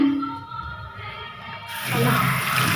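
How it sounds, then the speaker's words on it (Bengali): Soaked clothes are washed in water, a soft splashing that swells into a louder rushing slosh near the end, close and without talk. "এটা ধুয়ে নিই।"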